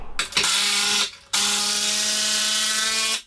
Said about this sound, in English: get some nice long screws and screw that straight into the top plate all the way along